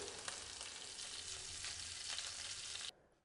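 A loud, continuous hiss and crackle of coriander leaves sizzling in hot tempering oil, close up, cutting off abruptly near the end.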